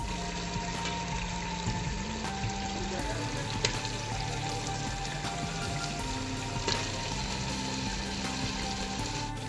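Potatoes fry in a pot of aloo gosht, a steady soft sizzle with faint clinks and scraping stirs, fairly quiet and without talking.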